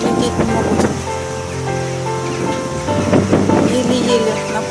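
Strong wind blows outdoors during family berry picking after sunny weather, producing a loud, continuous gusty roar with surging bursts and some tonal whistling throughout.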